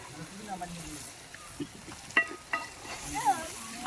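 Masala stirred and frying in a pan makes a low, steady sizzle, with scraping strokes and a few sharper clinks of the spoon. Faint voices murmur in the background.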